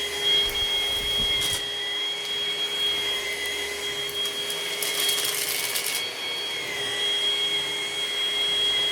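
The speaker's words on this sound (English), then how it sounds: "It's still vacuuming." A cordless vacuum cleaner with its dust bin nearly full runs continuously up close, giving a steady whirring drone with a high whine, without speech.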